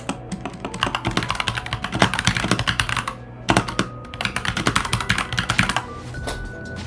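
Steady, fast typing of text on a computer keyboard, close and loud, with dense runs of clacking keystrokes broken by brief pauses.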